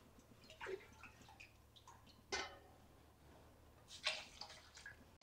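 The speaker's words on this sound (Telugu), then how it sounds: "నిండా వాటర్ పోస్తున్నా" Cupfuls of water poured onto rice in a pot for green peas pulao, heard as three brief, quiet splashes spaced a second or two apart against a faint background.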